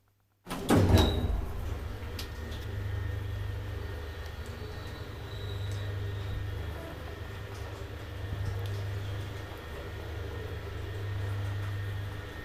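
An old Kone traction elevator in an apartment building in Naantali, Finland, starts with a thump, then a steady low machine hum and rumble of the car travelling, continuous and moderately loud, with no voices.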